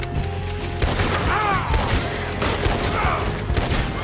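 Repeated gunfire crackles in a Red Dead Redemption 2 shootout at an army camp, a rapid fusillade of sharp shots with distant echoes and whizzing ricochets, continuous throughout.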